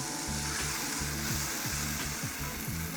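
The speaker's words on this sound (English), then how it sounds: "So our pepper is fried" Pepper frying in a pan for Nigerian coconut rice gives a steady, close sizzle that runs without a break, with faint low bubbling beneath it and no voices.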